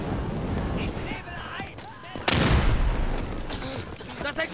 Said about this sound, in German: Das explodiert!